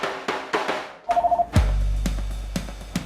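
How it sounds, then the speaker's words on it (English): A telephone rings in short electronic bursts, a quick repeating trill followed by sharp clicks and a low hum, fairly close and clear with no talking. "There's the phone again."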